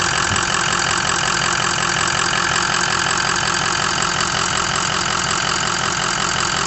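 A 6.0 engine runs loud and close, a rough, continuous knocking idle with a steady clattering drone and no talk over it.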